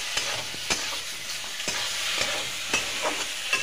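Ridge gourd with ground chili paste frying in a pan while being stirred, a soft, steady sizzle broken by a series of regular light scrapes and taps of the spoon.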